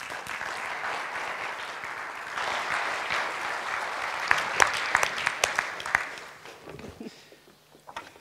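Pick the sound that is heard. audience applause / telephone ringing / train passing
audience applause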